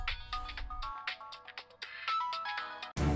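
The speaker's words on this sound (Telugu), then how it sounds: "డాడ్ కాల్ చేస్తున్నారు." A melodic phone ringtone announces an incoming call in a Telugu TV serial scene, ringing steadily and fairly loud for about three seconds before cutting off with a short low thump.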